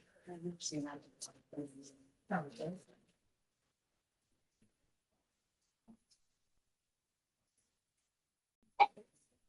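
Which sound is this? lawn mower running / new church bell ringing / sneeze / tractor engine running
sneeze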